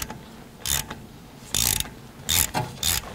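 A bolt extractor tool backs a loose bolt out of a Mercedes GL450, producing close, clicking ratchet bursts in short uneven spurts separated by brief pauses.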